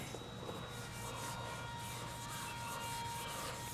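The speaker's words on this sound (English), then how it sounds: "Apparently you're just supposed to kind of just wipe and wipe and wipe and wipe and wipe" A Turtle Wax Renew & Restore wipe rubs back and forth over car chrome with a mild abrasive, producing faint, steady scrubbing strokes in a regular rhythm.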